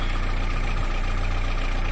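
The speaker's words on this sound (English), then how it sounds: "Had the engine running at a cruising speed for about 40 minutes now, and it seems absolutely fine." A narrowboat engine runs steadily at cruising speed after a repair: a constant, close, low mechanical drone with an even throb and no other sounds.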